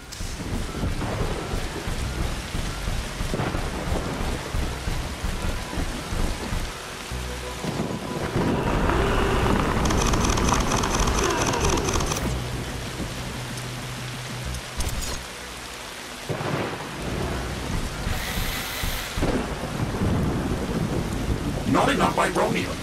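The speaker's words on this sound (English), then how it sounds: "The storm is very violent, but our base is safe from the wind." Inside a video game, a violent thunderstorm howls with heavy wind and rain, and deep thunder rumbles swell and roll through the wash over about twenty seconds.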